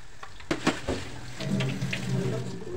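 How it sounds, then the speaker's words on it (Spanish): Meat rolls coated in egg drop into very hot oil in a frying pan, giving a couple of sharp splashes followed by a steady, close crackling sizzle, with a voice speaking over it. "Ya está el aceite bien caliente, ahorita lo vamos a poner con mucho cuidado y le vamos a dejar ahí que se fría."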